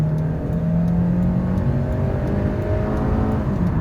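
A Hyundai Elantra accelerates hard in kickdown from about 50 to 90 km/h, a steady loud engine drone with rising pitch heard from inside the cabin, continuous and without talk.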